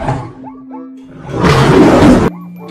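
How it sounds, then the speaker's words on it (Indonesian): Lion in the video game Jurassic World Evolution 2 roaring, a loud, close, rough burst of roughly a second that cuts off abruptly, set between lower game sounds and tones. "lihat teman, ini ada singa"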